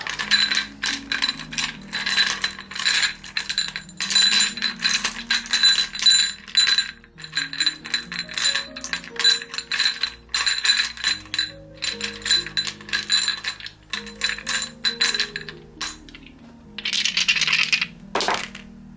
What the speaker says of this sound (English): Let's roll the dice.